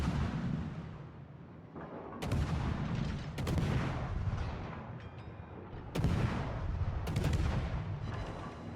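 Destroyer Khabarovsk's ship guns firing in World of Warships: several heavy booming salvos in irregular succession over a constant rumbling background, loud and close.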